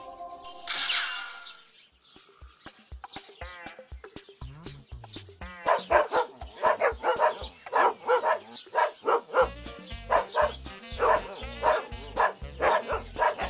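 Two dogs barking in a Bengali cartoon folk tale, a rapid series of close, loud barks and yips driven by a pounding low rhythm, following a brief higher cry at the start.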